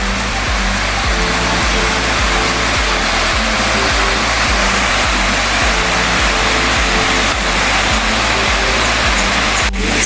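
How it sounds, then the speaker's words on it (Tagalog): A waterfall on a rural property in Lopez, Quezon roars with a dense, unbroken rush of falling water, loud and close, steady throughout with a faint rhythmic low pulsing beneath. "So yan, ito na yung falls."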